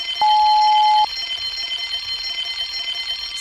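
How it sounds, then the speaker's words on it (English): A single steady electronic alarm tone sounds for under a second, then stops, leaving a faint high-pitched hum. "Soon came the alarm."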